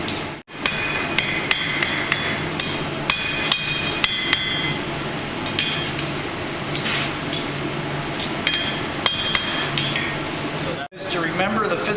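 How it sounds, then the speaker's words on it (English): Blacksmith's hammer striking a bottle opener on an anvil, a steady run of sharp ringing metallic blows with bright overtones, close and loud, with a short gap near the end. "The rebound coming off the anvil is a good indicator of where to keep that hammer head."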